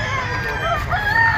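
A henny or stag rooster at a Sunday poultry sale crows loudly and close by in one drawn-out, wavering call, with faint background noise.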